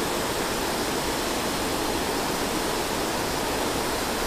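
Steady dense rushing noise of heavy rain falling by a creek mixed with flowing water, constant and enveloping, with no voices or distinct events.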